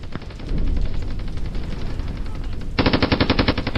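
Machine-gun fire in a wartime battle scene from a memorial film: a loud, rapid, continuous rattle of shots, briefly easing, then resuming in a harsher, brighter burst near the end.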